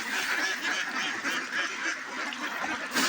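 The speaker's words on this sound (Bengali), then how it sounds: "আমার হাঁসগুলো দেখতে পাচ্ছেন কতটুকু বয়স কতটুকু বড় হয়েছে" A flock of ducks quacking continuously and loudly nearby, overlapping calls filling the whole stretch without pause.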